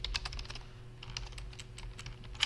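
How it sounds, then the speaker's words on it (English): Fingers tap rapidly on a computer keyboard in uneven bursts of close, crisp keystrokes, pausing briefly midway before the clatter resumes. "So it's a lot of typing for 5 marks"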